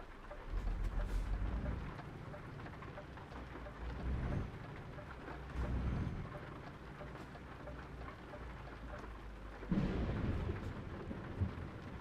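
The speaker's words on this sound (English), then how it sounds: "Thunderstorm." Night-time thunderstorm in the Euro Truck Simulator 2 driving game, with continuous rain and several separate low thunder rumbles rolling in every few seconds, the last one a sharper, closer crack.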